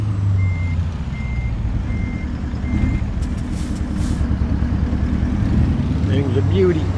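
Reversing beeps from a Kenworth W900 truck in American Truck Simulator, a steady string of evenly spaced high tones over a loud engine rumble, fading out partway through as the truck idles on.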